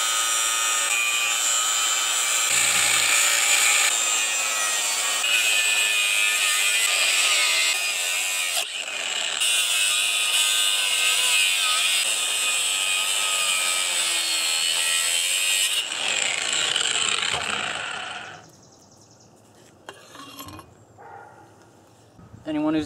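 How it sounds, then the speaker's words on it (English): A cutoff wheel grinds through a Koni Yellow strut insert from an MR2 Spyder. A loud, continuous high-pitched abrasive whine runs close for most of the time, then stops, leaving scattered clinks and handling noises. "I'm gonna try just getting this with a cutoff wheel."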